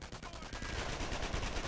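Automatic weapon fire in Company of Heroes, a World War II strategy game, crackling as rapid, dense bursts that carry steadily through the whole stretch at a loud, close level.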